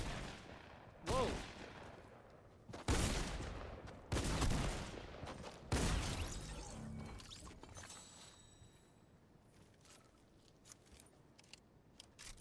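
Gunfire bursts in Fortnite: several loud, sharp volleys in the first six seconds, then quieter scattered pops and game effects fading out, with no talk.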